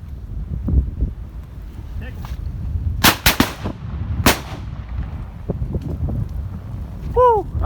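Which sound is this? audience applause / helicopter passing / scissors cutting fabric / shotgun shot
shotgun shot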